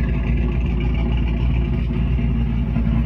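A 1960s Chevrolet Nova race car fitted with a hood scoop idles steadily nearby, its engine giving a continuous low, rumbling drone throughout with no noticeable revving.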